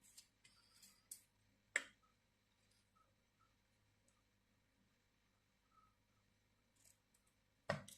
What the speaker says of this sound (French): Je vais couper les petites pattes ici, de chaque côté.